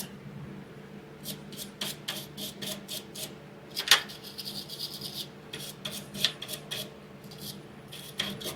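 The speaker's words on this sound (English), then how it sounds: "Just got a steel brush." A steel wire brush scrubbing parts on an old John Deere riding mower, with quick rasping strokes in irregular bursts, close and moderately loud, separated by short pauses.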